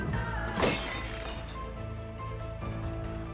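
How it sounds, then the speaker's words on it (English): A flower vase shatters on the floor with one sharp crash, followed by a trailing clatter of broken pieces under a low, steady background. "she accidentally knocked over a flower vase and shattered it on the floor"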